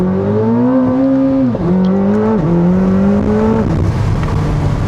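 A 2026 Corvette ZR1 engine drones loudly up close, dipping briefly at each manual gear shift before its pitch climbs steadily again under acceleration.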